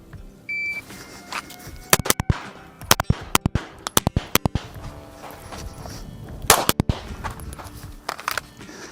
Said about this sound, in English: I'm gonna shoot this one, then run up and shoot the other 3.